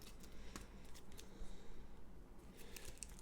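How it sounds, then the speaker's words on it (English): Board game cards for Battlestar Galactica are shuffled in a quiet room, giving soft, irregular riffling and snapping clicks that come close and faint. "Let's shuffle these up."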